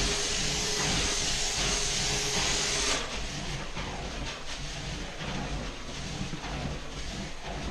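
A steam cleaner performs a steam rinse, giving a loud, continuous hissing roar with a faint tonal whine that drops away partway through as the machine keeps running.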